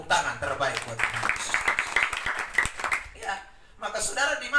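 Congregation clapping during a church sermon, a dense burst of many hands lasting several seconds, with a voice speaking over it and the noise dipping briefly before rising again.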